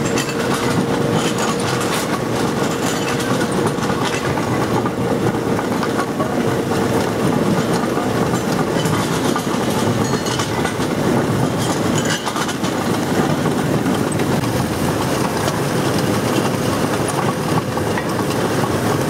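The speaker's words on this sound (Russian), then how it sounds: "Не совсем железнодорожный стук колес из-за того, что много растительности." Rail vehicle rolling along an overgrown narrow-gauge railway, wheels pressing through dense vegetation with a steady muffled rumble and faint irregular clacking; an engine drone runs continuously throughout, fairly loud and close, with no talk.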